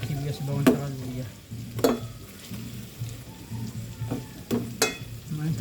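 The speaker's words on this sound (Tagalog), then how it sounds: "Kailan natin mag-golden brown itong sibuyas, bawang sa luya." Onion, garlic and ginger fry in a pan with a steady sizzle, broken by a few sharp clacks and scrapes of stirring against the pan, with no talk.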